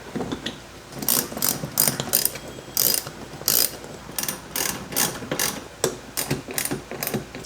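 A ratchet drives lag screws into a replacement seat on a John Deere mower, giving close, loud bursts of rapid clicking in uneven spurts with short pauses between, and no talking.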